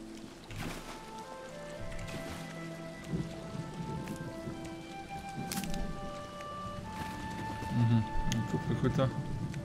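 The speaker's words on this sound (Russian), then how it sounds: "Еще и дождик накрапывает с музычкой." Light rain patters steadily in the video game Morrowind near a lakeside pier, with soft background music and occasional rumbles, heard under someone talking.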